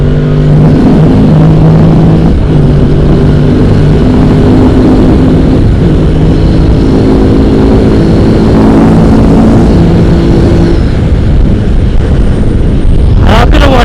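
Hyosung GT650R motorcycle engine pulling hard while overtaking on an open road, a loud continuous drone with rising pitch as it accelerates, wind noise throughout and a brief sharp sweep near the end.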